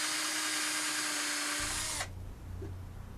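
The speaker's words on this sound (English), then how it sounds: "So here I'm just drilling the holes for those screws and attaching them." A power drill whines steadily while boring screw holes into a wooden backing piece for a custom rear bike light, loud and close for two seconds, then cuts off abruptly leaving a faint low hum.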